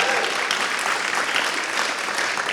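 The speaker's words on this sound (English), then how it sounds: "By a round of applause, who's ready?" A brief burst of audience applause at a salon-style talk event, dense and steady clapping from a crowd throughout, fairly loud with no pauses.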